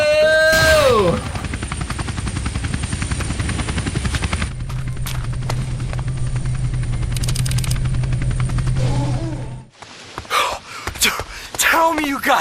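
A helicopter in the skateboarding video game Tony Hawk's Underground whirs with a steady rotor chop, joined partway by a low engine hum, then cuts off abruptly into brief scattered game sounds.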